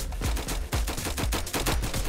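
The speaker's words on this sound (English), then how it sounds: "exploding eggs to your face doesn't, like, do a whole lot of damage" Rapid bursts of egg launcher explosions in the Roblox game Flag Wars, a dense, loud run of booming thuds and crackling blasts with no speech.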